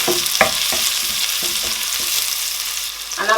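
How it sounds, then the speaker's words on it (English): White onions fry in hot oil in a pot on low heat, with a steady, close sizzle and a few short stirring scrapes and clinks of the spoon against the pot. "I am going to add my white onions inside it."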